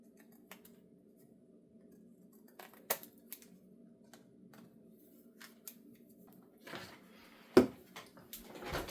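Scissors snipping craft pieces at a crafting table, a scatter of sharp, quiet clicks and snips spread irregularly across the stretch, with a louder cluster near the end and no talking.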